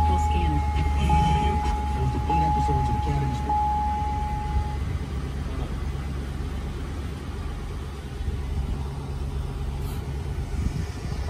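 A Chevrolet Suburban Z71 with reported mechanical damage sits with its engine running, a low steady rumble close by, while someone talks over it.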